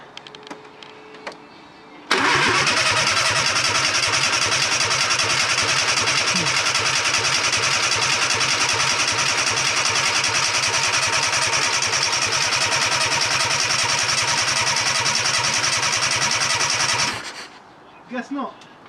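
A Fiat Panda 4x4 with a swapped engine cranks steadily on its starter for about fifteen seconds without firing, a loud rhythmic whirring that stops abruptly, with brief quiet sounds before and after.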